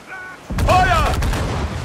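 Cannon fire from a pirate ship in Assassin's Creed Freedom Cry: a loud broadband boom and rumble bursts in partway through and carries on as a sustained roar, mixed with a shouted voice and the whistle of the ship's guns.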